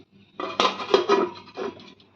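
A lid set down over a pan of bhetki fish cooking in mustard-poppy seed curry makes a short metallic clatter of a few quick clanks, close and clear against near silence.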